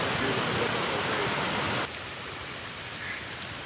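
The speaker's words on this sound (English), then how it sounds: "this is Ninja Waterfall on River" Ninja Waterfall on the Thiba River in Kirinyaga pours as a steady, loud broadband rush, dropping abruptly to a softer, more distant roar partway through, with no voices.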